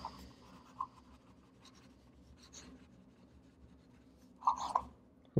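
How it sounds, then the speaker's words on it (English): An Opus 88 Omar Demonstrator fountain pen writes fast on paper, a soft continuous scratching with a few sharper ticks of the nib, quiet and close. "Let's try fast writing."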